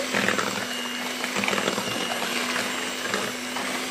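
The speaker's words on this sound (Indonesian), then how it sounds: "telur, gula, dan SP kita kocok sampai dia mengembang ya. Oke, speed rendah dulu." An electric mixer runs at low speed, beating eggs, sugar and SP emulsifier for a steamed taro sponge cake, giving a continuous close motor whir with a steady hum and no talk.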